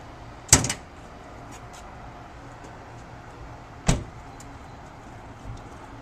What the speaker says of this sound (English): First thing I'm gonna do is pop the hood and show you the engine.